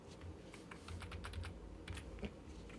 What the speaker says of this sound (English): So we're gonna type in right here.